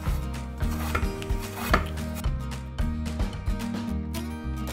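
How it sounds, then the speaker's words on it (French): Knife scoring an aubergine in a crisscross pattern, producing repeated close, rhythmic cuts and taps against a board over a low steady hum, with no speech. "vous allez tout simplement faire des traits comme ceci sur votre aubergine, dans les deux sens"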